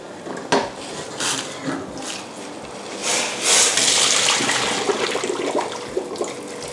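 Hot water pours and gushes out of a pot of blanched vegetables, with metallic clanks of pans and utensils in a busy kitchen, a loud rushing swell midway, and no talk.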